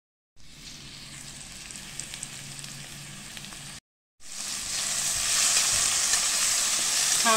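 Fenugreek seeds drop into hot oil for a dal tempering and crackle with a bright, steady sizzle, broken by a brief silent gap before the frying resumes louder and denser, with no talking.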